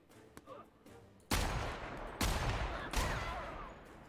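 Enemy gunfire aimed at the player in The Outer Worlds, three loud bursts of shots cracking out about a second apart after a quieter lead-in.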